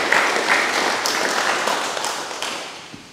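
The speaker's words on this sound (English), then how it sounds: "Graham, a round of applause." Audience applause at an electric vehicle association meeting in Queensland: a dense, steady patter of many hands clapping that carries on for about three seconds and tapers slightly toward the end.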